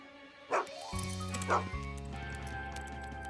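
A large cartoon dog gives a couple of short yips and whimpers during an ear check, the sharp bursts rising over a sustained musical score.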